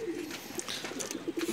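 Pigeons cooing at close range in a rooftop loft, low repeated coos in a steady rhythm with a few brief chirps and rustles mixed in, no voices.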